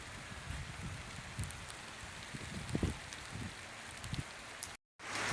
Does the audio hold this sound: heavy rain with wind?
yes